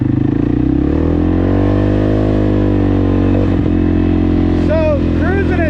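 A CForce 600 ATV fitted with an RNG clutch kit drones at a steady engine pitch while accelerating, loud and close, and a voice talks over the engine note.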